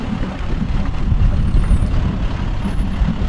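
Volunteer fire company truck rolling in a Veterans Day parade in Connellsville, a loud low engine rumble with steady road noise and a faint high hiss near the middle and end.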